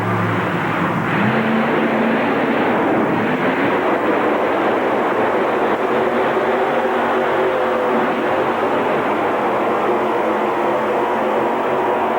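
A pulling tractor roars off the line at a 1989 indoor super pull, a loud, continuous engine blast filling the arena without pause.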